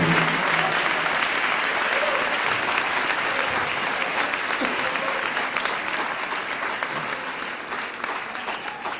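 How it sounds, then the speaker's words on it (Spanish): A church congregation claps in praise, a thick, continuous round of applause that fills the room for several seconds and slowly tapers, with faint voices mixed in. "Dele ese aplauso de alabanza al Señor."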